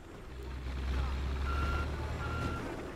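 Reversing beeps from a vehicle backing up in the video game Battlefield Hardline, two spaced tones sounding over a low engine rumble.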